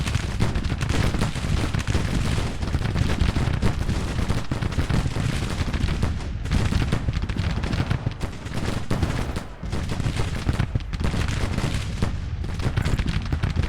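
Dense, continuous rifle fire from Union Sharps rifles rattles on in Grand Tactician: The Civil War, overlapping crackling volleys with deep booms, loud and unbroken throughout.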